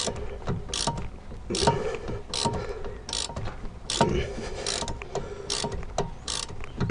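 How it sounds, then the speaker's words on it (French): A ratcheting ring wrench clicks in quick bursts of sharp ratchet ticks, repeated in a steady back-and-forth rhythm, close and fairly loud. "Vive les clés à œil à cliquer"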